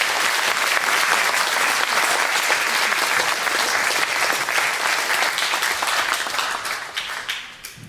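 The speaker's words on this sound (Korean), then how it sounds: "우리 감사와 영광의 박수를 보내드리고 감사하겠습니다." Church congregation applauding warmly at a Korean service, dense and steady clapping that fills the room, close and loud, tapering off at the end.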